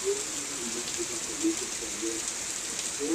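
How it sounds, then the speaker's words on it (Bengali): Steady rain falling during a downpour, a continuous soft hiss of drops with a faint low hum underneath and no talking. "যেমন যেমন গরমটা ছাড়ছিল তেমন বৃষ্টিটা নামছে।"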